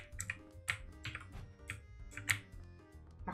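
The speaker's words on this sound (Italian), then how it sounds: "Sentite come da tastiera Google." Rapid keyboard typing in Dead Plate, a restaurant horror game, with soft irregular key clicks close up over a faint background hum.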